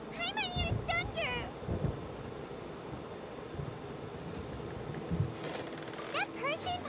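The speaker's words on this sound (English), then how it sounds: "Paimon hears thunder!" Low, rolling thunder rumbles through a stormy scene in the video game Genshin Impact, running steadily beneath character voices speaking at moderate level.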